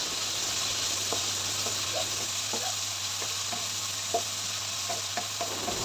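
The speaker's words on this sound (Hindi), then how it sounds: "इसके बाद हम चिकन ऐड कर रहे हैं। चिकन को मैंने क्यूब्स में काट लिया था।" Cubed chicken frying in oil over high heat for a pasta dish, a steady loud sizzle with scattered pops and stirring clicks throughout, no voices.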